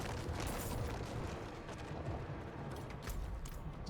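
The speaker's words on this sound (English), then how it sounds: "Don't get hit by the death explosions." Death explosions in the action RPG Diablo 4 during a minion necromancer build, a dense, continuous rumble of overlapping booms and bursts of combat noise at moderate volume, with no talking.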